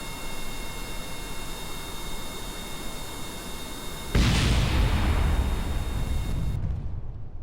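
A steady roaring rocket noise in the video game Kerbal Space Program gives way to a sudden loud crash of an explosion, whose rumble continues for a few seconds before cutting off.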